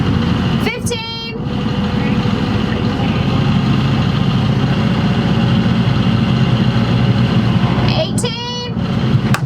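The diesel auxiliary engine of a 44-foot monohull sailboat backs down slowly at about 1500 RPM while setting anchor, a steady, loud low rumble and hum throughout, with brief sharp mechanical rattles near the start and end.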